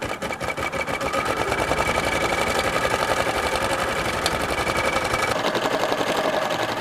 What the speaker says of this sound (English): So then I'm going to go ahead and start to embroider my design.